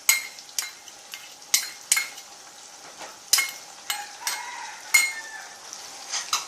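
A spoon stirs potatoes with chili sauce in a hot pan over a steady background sizzle, striking the pan in sharp scraping clacks roughly every half second to a second, close and clear.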